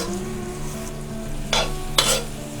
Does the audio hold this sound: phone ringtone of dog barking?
no